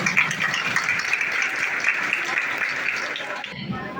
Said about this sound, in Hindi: हम सभी प्रशिक्षुओं के लिए जोरदार तालियों से स्वागत करें, अभिनंदन करें।